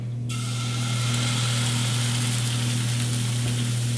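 Pancake batter meets a pan warmed with a little oil and breaks into a loud, steady, close sizzle that holds constant over a low hum.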